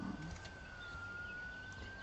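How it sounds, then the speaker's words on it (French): A distant car siren holds a steady, faint wailing tone over low background hiss throughout, with no talking. "Ah bah, les sirènes de voiture."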